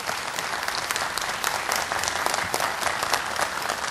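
An audience at a Korean volunteer-service award ceremony applauds steadily, a dense wash of clapping from many hands, continuous and moderately loud with no voices over it.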